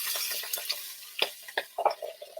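Water poured into a hot pan of pork cutlets gives a run of soft hissing, crackling bursts and drips. It is close and fairly quiet, with no talking.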